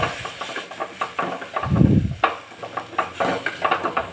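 A metal spoon stirs and scrapes chunks of elephant yam through spice powders in a pan, giving irregular clinks and scrapes with a brief louder rumbling knock midway.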